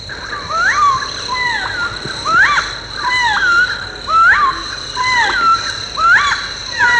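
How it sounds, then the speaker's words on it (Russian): Tropical rainforest near Cape Garagasi, where a bird repeats a looping, warbling call about once a second over a steady high insect drone, fairly close and unaccompanied by voices. "А это звуки тропического леса,"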